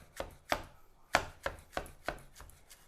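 A chef's knife chops leek and green onion into rings on a cutting board: seven crisp, sharp knife strikes at an uneven, unhurried pace, close and clear with no talking.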